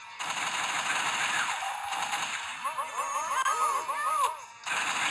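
Video game gunfire from The House of the Dead, emulated on the Sega Saturn, rattling in rapid bursts under steady game audio, with a short gap midway and a run of sharp metallic hits near the end.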